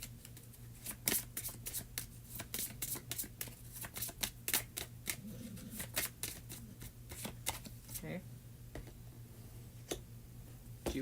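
Tarot cards being shuffled by hand: a rapid, continuous riffle of crisp card flicks and slaps, close up, over a low steady hum, with no talk.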